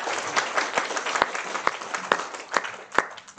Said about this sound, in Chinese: 给他掌声鼓励